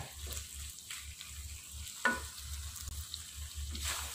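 Chili, jengkol beans and salted squid fry in a pan with a steady sizzle, punctuated by periodic scraping and clanks of stirring, close and without talking.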